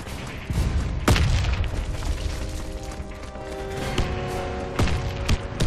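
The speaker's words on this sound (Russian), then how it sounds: "Кидаю гранату!" A grenade goes off during a Warface clan match, a sharp blast standing out over steady mechanical game noise, with another heavy impact later in the clip.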